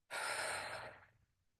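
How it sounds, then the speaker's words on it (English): One slow, deep exhale during a breathing exercise, close and breathy, rushing out strongly and then tapering off into quiet. "Breathe out."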